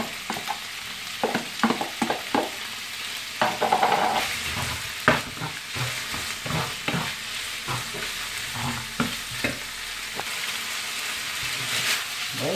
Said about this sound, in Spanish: vamos removiendo los tallarines con las gambas